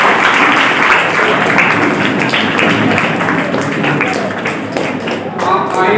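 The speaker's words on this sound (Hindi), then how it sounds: "जोरदार यहाँ पर अजीज तुलबा साहबा तालियां बजाइए।" An audience at a career guidance ceremony applauds as guests are welcomed and honoured with shawls, giving steady, dense clapping that holds for several seconds and thins slightly near the end.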